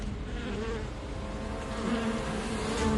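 Bees swarm in a cartoon, a steady, dense buzzing drone that stays close and fairly loud throughout, with no voices over it.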